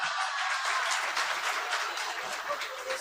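An audience applauds at a Hindi poetry gathering (kavi sammelan), with steady, dense clapping from a crowd that carries on throughout at a moderate distance, with no speech over it.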